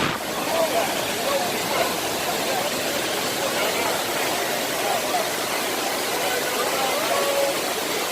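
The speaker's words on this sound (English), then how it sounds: "Dunn's River, Jamaica, Dunn's River Fall and Park." Steady broadband rush of the waterfall at Dunn's River Falls in Ocho Rios, Jamaica, loud and continuous throughout, with faint voices of people nearby under the roar.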